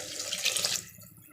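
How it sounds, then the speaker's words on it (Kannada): A short rush of water poured into a pressure cooker over rice, loud for under a second and then trailing off into quiet. "1 ಗ್ಲಾಸ್ ಅಕ್ಕಿಗೆ 2 ಗ್ಲಾಸ್ ಥರ ನೀರು ಹಾಕ್ತಾಯಿದ್ದೀನಿ."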